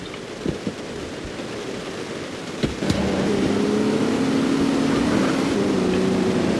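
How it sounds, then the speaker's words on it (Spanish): A police car in GTA San Andreas drives with a steady engine drone, a few soft knocks, then a louder wailing two-tone siren that holds on over the engine, fairly close. "ese es el coche policía"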